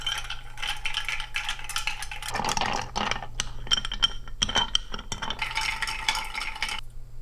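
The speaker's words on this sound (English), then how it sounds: "Put in some ice, of course, and give it a stir." A spoon stirs ice in a sage martini, with steady close clinks and rattles of ice against glass running for several seconds.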